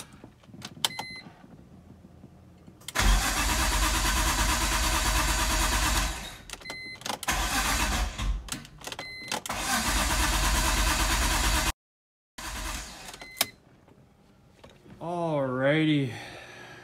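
A BMW E46 M3 engine cranks on a start attempt in a garage, the starter whirring loudly in several long bursts separated by short pauses, then a brief dropout and a rising whine near the end.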